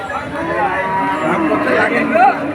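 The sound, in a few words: cow at cattle market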